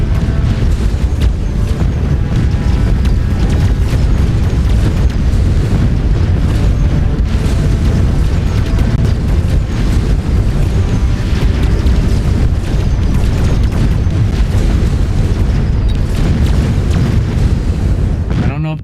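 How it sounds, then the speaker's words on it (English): Missile barrage explosions in a video game, a dense continuous stream of booms and bursts hammering loud and unbroken for the whole stretch, with no pauses between impacts. "I forgot missile barrage and it killed me."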